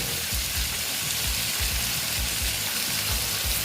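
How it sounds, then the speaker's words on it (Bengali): Tangra fish frying in a pan of hot oil, a dense, even sizzle and crackle throughout with soft rhythmic low thumps beneath, close and steady, with no talking. "দেখো আমি এখন দিয়ে দিলাম মাছগুলো দিয়ে ভালো মতন আমি ভেজে নেব"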